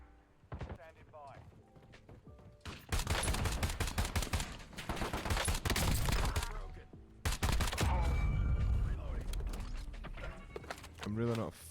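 Sustained bursts of automatic fire from an AK-27 Battle-Scar rifle in Warzone, loud and near, two long volleys split by a short gap, with mechanical clatter and a voice talking under the shooting.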